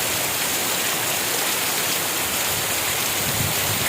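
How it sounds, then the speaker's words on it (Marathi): Heavy rain falls in a dense, unbroken hiss, loud and close, with no gaps or other sounds. "पाऊस बेकार नाही हा."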